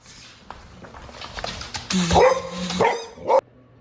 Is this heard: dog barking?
yes